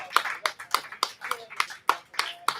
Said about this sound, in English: We're clapping all the way up.